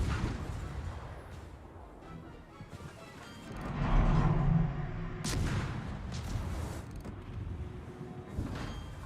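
Naval gunfire in the World of Warships game, with heavy booming shots that rise in loudness around the middle, followed by several sharper blasts, all over a constant rumbling background of engine and sea.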